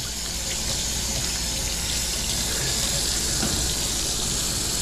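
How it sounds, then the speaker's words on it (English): Cold water runs steadily from a tap while a scaled trout is rinsed, a constant close hiss and splash filling the whole stretch without pause. "You're gonna wash it off cold water, not hot, because we're not cooking it."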